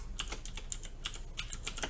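Rapid, uneven typing on a computer keyboard while setting up an LCD display project, with sharp close key clicks in irregular bursts and no talk.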